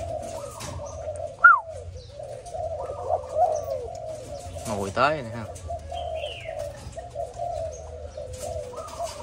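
A Malaysian spotted dove gives soft, rhythmic coos repeated through the recording alongside small chirps, heard close and under someone speaking Vietnamese.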